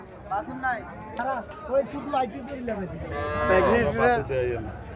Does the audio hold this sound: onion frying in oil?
no